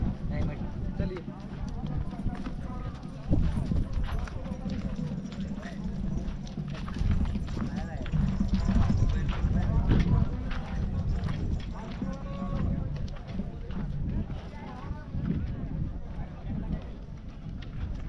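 Hooves of a running bull clopping steadily on the ground, a loud, continuous rapid beat with voices talking over it throughout.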